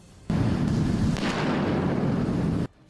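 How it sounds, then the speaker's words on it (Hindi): A mortar shell explodes in the Russia-Ukraine war, a sudden, loud, deep roar that rumbles on for about two seconds, then stops sharply. "मोर्टार गिरते ही तेज रोशनी के साथ ऐसा धमाका हुआ कि पूरा इलाका थर्रा गया।"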